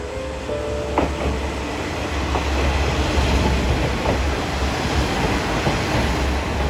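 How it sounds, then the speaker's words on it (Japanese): A local passenger train bound for Kinosaki pulls into Hamasaka station on the San'in Main Line, Japan, with a steady, loud rumble of wheels and rails. A brief squeal comes early, and light clicking sounds as the cars roll past. "そして城崎行きの普通列車もやってきました"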